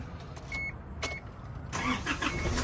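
Steady low idle of a 2005 Isuzu D-Max 2.5 SLX four-door pickup engine, heard close by with no talk, with a few brief higher clicks and whines on top.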